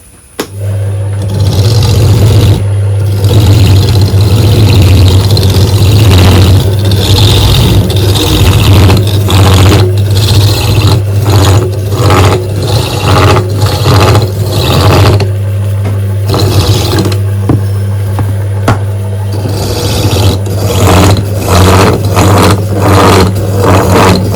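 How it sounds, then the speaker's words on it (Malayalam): A motor-driven coconut grating machine runs steadily with a loud, constant low hum and rattling mechanical scraping that continues throughout without pause. "ഇപ്പൊ ഇതാണ് ഇവര് തേങ്ങ ചിരകുന്ന മെഷീൻ അല്ലേ?"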